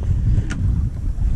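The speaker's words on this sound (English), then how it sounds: "It's quite a bit windy." Steady wind buffeting outdoors, a low rushing roar with gusty rumble over the microphone, loud and continuous.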